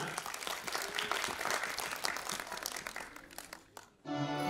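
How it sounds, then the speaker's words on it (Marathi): A theatre audience applauds to welcome the children's play Jungli Baana, steady dense clapping that fades before music begins at the end. "जोरदार टाळ्या वाजवून स्वागत करूया दुसऱ्या बालनाट्याचं जंगली बाणा"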